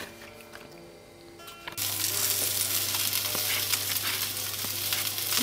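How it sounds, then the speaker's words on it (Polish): Potato dumplings fry in a pan, starting with a quiet muffled stretch and then breaking into a loud, steady, close sizzle with a few small stirring clicks over a low hum. "Dzisiaj kluseczki ziemniaczane, smażone na słonimce."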